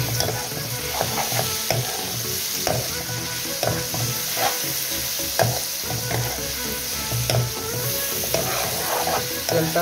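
Whole cloves, cinnamon, cardamom and bay leaves sizzle in hot oil in a pot for a Sylheti beef-bone and sweet gourd dish, with steady close frying and repeated scraping strokes of a stirring spoon.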